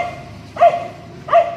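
A dog lets out two sharp barks spaced under a second apart, moderately loud and near, over a low steady background hum.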